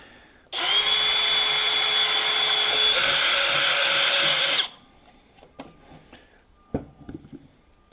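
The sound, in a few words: power drill drilling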